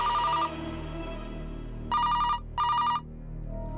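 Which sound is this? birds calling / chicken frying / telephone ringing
telephone ringing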